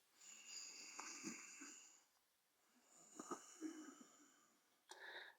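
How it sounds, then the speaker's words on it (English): Ujjayi breathing drawn in and out through the nose with a contracted throat, making soft, hoarse, rasping breaths. Two long slow breath cycles are heard up close, quiet and alone, followed by a short final exhale. "while we breathe we want to contract the throat, and this makes a certain sound."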